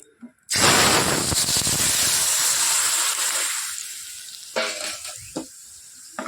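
Radhuni spice tempering hits cooked dal with a sudden loud sizzle that bursts in, then hisses and fades over several seconds, followed by a few softer clinks.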